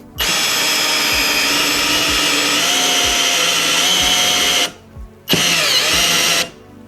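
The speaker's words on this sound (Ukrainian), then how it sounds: "Давайте свердління." A Vitals Professional AU 1860Pbt cordless drill runs loud and steady for several seconds, stops briefly as it cuts out into overload protection, then whines again in a second shorter burst.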